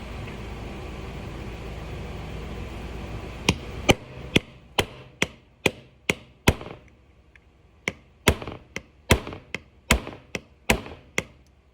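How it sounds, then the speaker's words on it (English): Sharp metallic hammer blows striking a stuck part on a Yamaha DT 100 enduro motorcycle, about fifteen loud, close strikes in an irregular rhythm, some in quick pairs, with short pauses between. "gonna hammer that thing out"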